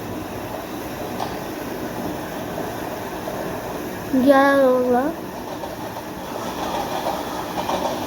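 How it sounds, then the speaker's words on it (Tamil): In the Monster Meteor video game, a train passes with a roughly one-second horn blast rising over a steady rumbling background, while a person talks. "இவங்க ட்ரெயின் வருது"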